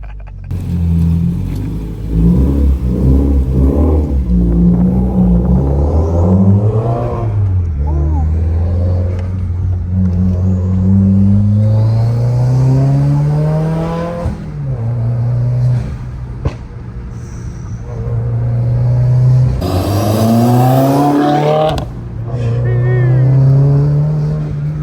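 Modified Subaru WRX on a closed road in Mexico, engine revving and accelerating hard through repeated gear pulls with rising and falling pitch, loud and close from inside the car, with people talking over it.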